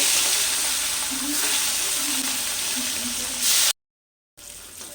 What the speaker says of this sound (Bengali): আবারও ওই তেলে একই রকম করে ভেজে নেব